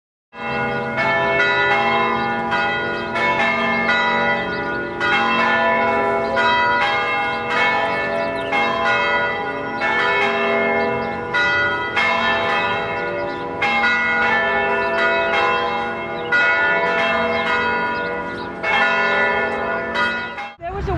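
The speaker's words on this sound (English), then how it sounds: "Every day at noon, those bells can be heard as they call people to service." Church bells ring continuously from a bell tower at noon, a loud, overlapping peal of repeated strikes, sustained for the whole stretch with rich ringing tones.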